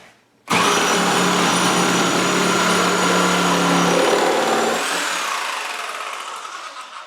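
A Milwaukee Super Sawzall 6523-21 reciprocating saw cuts in orbital action, a loud steady buzzing whine that starts abruptly, holds for several seconds, then winds down as the blade runs free.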